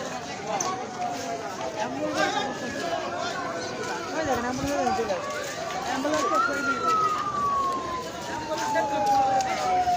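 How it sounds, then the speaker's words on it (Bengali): An ambulance siren wails and sweeps in pitch as it passes along a road blocked by protesters, heard amid a dense crowd murmur and voices talking nearby. "শুধু অ্যাম্বুলেন্স যাচ্ছে"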